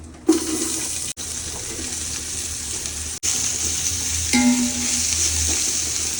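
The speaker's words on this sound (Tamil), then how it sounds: "இப்போ வந்து ஆனியனை போட்டுடுறேன்." Onions hit hot oil in a pan for biryani with a loud sizzle, then keep frying with a steady crackle as they are stirred, briefly cut by a couple of short dropouts.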